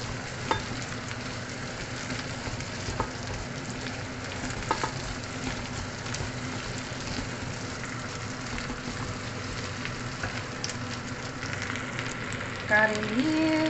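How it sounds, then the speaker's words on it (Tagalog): Curry leaves fry in hot oil in a pan for a creamy chicken curry, a soft continuous sizzle with occasional stirring clinks and a brief louder crackle near the end. "Fried muna yung curry leaves, guys, bago yung curry powder."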